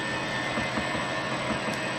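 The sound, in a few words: Wells Index 645 milling machine spindle starting up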